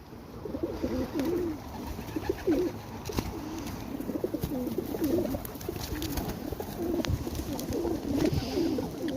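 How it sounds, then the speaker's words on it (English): Pigeons with leg bands coo repeatedly while pecking at feed outdoors, low rolling calls from several birds close by, with soft pecking taps and light background noise. "Hungry little pigeons."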